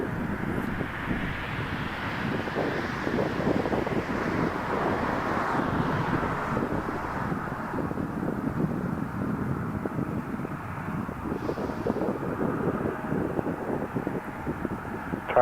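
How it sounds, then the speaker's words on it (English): An Embraer 175 jet taxiing at Toronto Pearson airport gives a steady, broad engine roar and whine that holds evenly throughout at moderate distance, with some wind rumble. "Currently taxiing down departure hotel. This is an Embraer 175."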